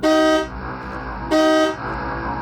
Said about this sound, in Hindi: उस रात तो मैं गाड़ी के हॉर्न से जागा था